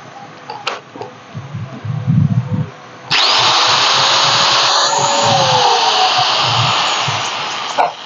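Power drill with a squeeze trigger on a test run: after some quiet handling clicks it whirs up to a loud, steady high-pitched motor whine that holds for about five seconds, then cuts off.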